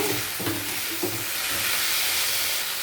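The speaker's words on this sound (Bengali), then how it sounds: "এরপর টমেটো কুচি দিয়ে দেব, নাড়াচাড়া করে নেব।" Chopped tomatoes hit hot oil with chicken in a pan for chilli chicken, setting off a loud steady sizzle and hiss, with a couple of soft stirring knocks near the start.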